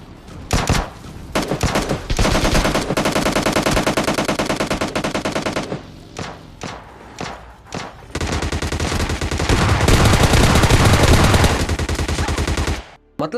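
Rapid automatic video-game gunfire, including an M24, rattles in long continuous bursts with short pauses between, loud and close, with a few single shots in the gaps.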